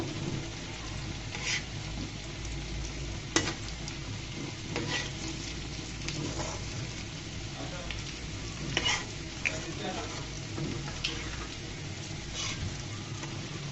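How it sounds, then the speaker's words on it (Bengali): Snacks made from watermelon rind frying in oil, a steady close sizzle with occasional clinks and scrapes as pieces are turned one by one, no speech over it. "এক এক করে সম্পূর্ণ নাস্তা আমি ভেজে নিচ্ছি,"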